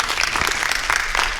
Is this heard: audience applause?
yes